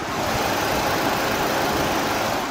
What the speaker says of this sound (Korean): 굉장히 정숙하고 규칙적인 엔진 사운드 들려주고 있고요